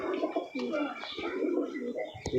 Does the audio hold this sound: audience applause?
no